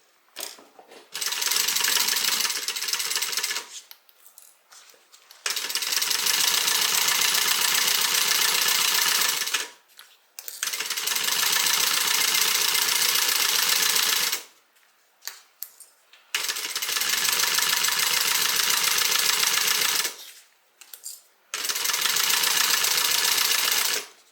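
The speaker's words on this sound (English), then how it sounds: "We're going to stitch, and then we will top stitch." A sewing machine stitches a fabric sling bag in four long, steady bursts of rapid whirring clatter, each a few seconds long, with short quiet pauses and small clicks of handling between them, close and loud.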